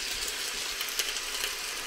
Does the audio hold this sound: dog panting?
no